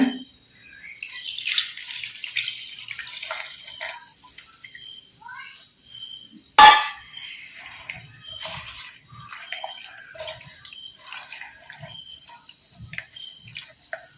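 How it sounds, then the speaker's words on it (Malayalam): Tamarind water is poured into a pot of Kerala-style mackerel and mango curry with shallots, a splashing pour lasting a few seconds, followed by a sharp clatter and scattered small kitchen noises. "ഈ പാകത്തിന് പുളിയുടെ വെള്ളം ഒഴിച്ചു കൊടുക്കട്ടെ"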